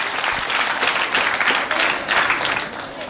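A crowd applauds steadily at a school event, a dense wash of clapping that holds at an even, fairly loud level from start to finish.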